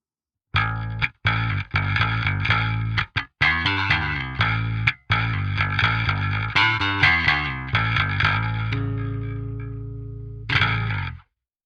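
An electric bass plays through a Parallax X cab sim with both mics panned left and right, giving a thick, distorted, wide tone of punchy plucked notes with short gaps, ending on a ringing note and a final hit.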